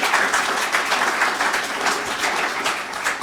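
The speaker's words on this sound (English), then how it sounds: "I think they deserve a round of applause" Sustained applause from a conference keynote audience fills the room, dense steady clapping at a constant loud level with no gaps, no voices standing out.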